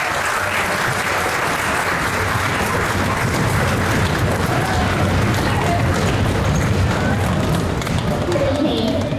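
A concert hall audience applauds a student honors orchestra with loud, sustained clapping that holds steady throughout, dense and close, with a faint murmur of voices mixed in.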